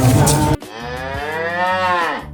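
A single long, low moo from a water buffalo, close and loud, rising and holding before trailing off, with brief background noise around it.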